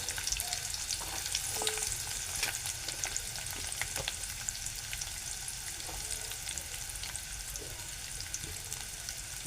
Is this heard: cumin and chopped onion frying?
yes